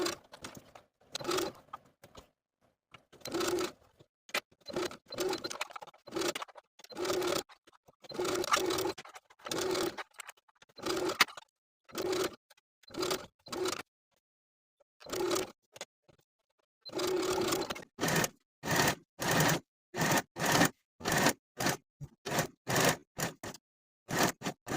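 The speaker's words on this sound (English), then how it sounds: "I'm going to finish the raw edges using my serger." A serger finishing the raw fabric edges of a collar seam on a women's top, running in repeated short bursts with brief pauses between them, fairly quiet and close, no talking.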